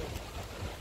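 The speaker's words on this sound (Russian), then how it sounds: "волны сильные." Strong sea waves wash onto a beach on a day flagged for rough surf, a dense continuous roar of surf mixed with gusty wind buffeting the microphone, loud and close with no voices.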